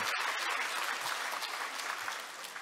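Dense applause from an audience at a Presbyterian church elders' retreat fills the whole stretch, steady and close, with no gaps or voices rising above it.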